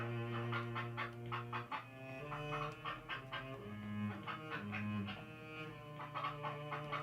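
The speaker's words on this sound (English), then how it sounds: "With their beady eyes, the chickens carefully inspect their tiny homes." Chickens clucking in the video game Rule of Rose, a steady stream of short repeated calls over a sustained tonal background score throughout.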